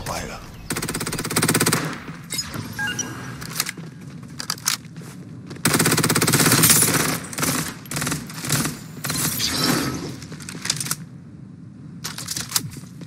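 Automatic weapon fire in the battle royale shooter Farlight 84, loud close bursts of rapid shots broken by short pauses, with game voice lines and effects mixed in.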